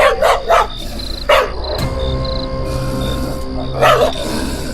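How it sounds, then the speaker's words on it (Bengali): A dog barks loudly and close by, a few sharp barks in a quick burst, a pause, then another bark against a steady background hum. "এমন সময় একটা কুকুর জোরে ঘেউ ঘেউ করে উঠল।"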